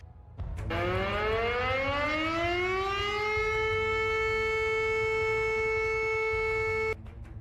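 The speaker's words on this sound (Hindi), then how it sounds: "खतरे का सायरन बजने लगता है" A warning siren starts abruptly, rises in pitch, then holds a loud, sustained wail before cutting off near the end.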